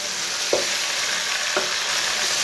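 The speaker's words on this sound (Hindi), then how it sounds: "साथ में कसूरी मेथी डाल लेंगे। 2 मिनट तक भून लेंगे।" Tomatoes, green chilies and dried fenugreek frying in a pan for sarson ka saag, a constant loud close sizzle with a couple of brief stirring scrapes.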